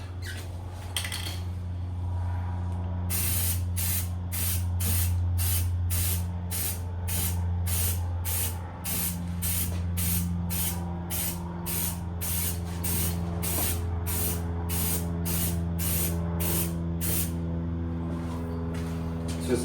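Aerosol spray paint on BMW F82 M4 wheels: a steady series of about twenty short hissing bursts in an even rhythm, close and clear over a low steady hum.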